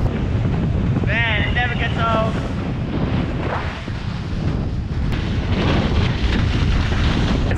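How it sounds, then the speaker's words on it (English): Strong wind at sea on a spearfishing trip buffets the microphone in a constant low roar, with a few brief voices and chirps breaking through. "It's a little bit windy"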